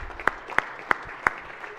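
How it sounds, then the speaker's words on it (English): A handful of sharp, isolated handclaps at a state Senate floor session, about four distinct claps spaced roughly a third of a second apart, thin and sparse rather than a full crowd ovation, in a quiet room. "So if you just give her a round of applause"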